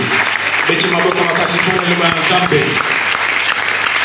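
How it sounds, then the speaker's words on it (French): An audience at a Bible seminar claps loudly and continuously, with a voice speaking over the applause in the middle. "On acclame très fort pour la parole de Dieu"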